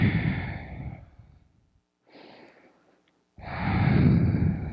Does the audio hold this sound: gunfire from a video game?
no